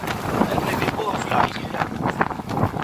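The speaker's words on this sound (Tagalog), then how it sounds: "Lakas ang hangin." Gusty wind buffets the microphone in rough, rumbling bursts as rain begins in the Cayman Islands, while a person talks nearby.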